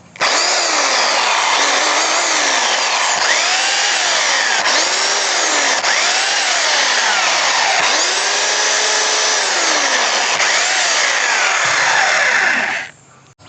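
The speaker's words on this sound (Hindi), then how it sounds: "बिल्कुल आपको नॉर्मल ड्रिल की तरह इसका आवाज़ आता है रोटरी मोड में।" A 26mm SDS rotary hammer drill in rotary mode runs loud and steady for several seconds, its whine dipping and rising as the load changes, then stops abruptly.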